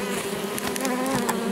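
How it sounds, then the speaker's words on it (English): Dense, steady buzzing of many honeybees at a top-bar beehive, close and continuous with no voices. "nice gentle bees"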